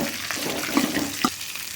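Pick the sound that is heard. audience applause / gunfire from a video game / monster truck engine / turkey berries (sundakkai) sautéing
turkey berries (sundakkai) sautéing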